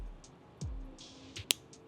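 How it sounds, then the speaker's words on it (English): A few small, sharp mechanical clicks close by from an archery hinge release aid, with one crisp snap standing out in a quiet setting. "all my hinge releases have a click in them"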